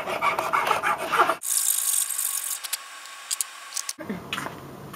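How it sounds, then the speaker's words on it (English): Steel and cherry wood can opener handle being shaped with a file, loud close rasping strokes back and forth with a brief quiet break in the middle. "I cut out the general shape, then refined it with a file and sandpaper."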